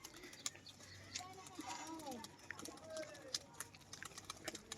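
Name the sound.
pigeons playing, sound of the flock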